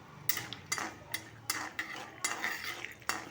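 Peanuts frying in hot oil for pulihora, sharp irregular pops and crackles bursting over a low sizzle, close and fairly loud, about eight distinct snaps in quick succession.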